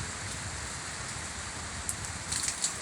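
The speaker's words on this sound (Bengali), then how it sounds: "বৃষ্টির ঝাপটা আসছে" Heavy morning rain falls in a steady, even hiss, with a few sharper drips and splashes near the end.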